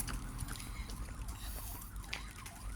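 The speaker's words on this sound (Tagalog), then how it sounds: "Ayun, mayroong ambulansya pupunta sa nursery home." An ambulance siren wails along a street on the way to a nursing home, its rising and falling tone fairly distant and steady beneath low street rumble.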